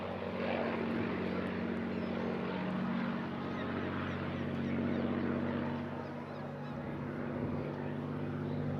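A Supermarine Spitfire piston-engine fighter flies at the Eastbourne International Airshow, its propeller engine giving a steady, distant drone that holds for the whole stretch with little change, faint and unbroken.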